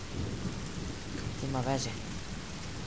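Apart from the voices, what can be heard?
rain and thunder in video game The Forest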